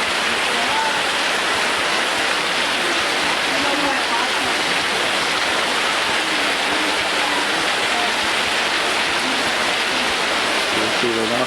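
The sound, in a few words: rainwater pouring off a roof cover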